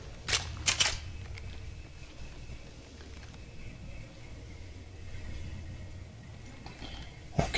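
Weapon reloading in the Apex Legends Mobile battle royale game: a few quick mechanical clicks and clacks near the start and another at the very end, with a low steady game ambience filling the gap between them.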